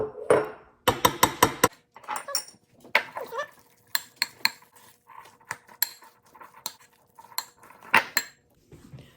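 Spoon scraping and clinking against a bowl while mixing tuna, a run of sharp metallic clicks and taps in quick bursts, close and fairly loud, with short pauses between strokes.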